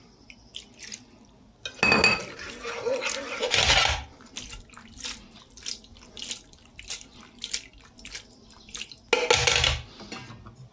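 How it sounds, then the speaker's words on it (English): Pasta alla gricia with cheese is vigorously tossed and shaken in a pan, giving a few loud bursts of sloshing and scraping separated by quieter clinks and small kitchen noises, with no talking. "you want really vigorous stirring, tossing, and shaking at this stage to make sure that the cheese melts evenly"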